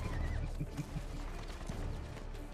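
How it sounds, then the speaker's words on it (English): Horse neighing in the Mortal Kombat X video game, a faint whinny with a few clip-clop hoofbeats, heard quietly under a dense background of game sound. "Why is Cabal bothering to ride the horse"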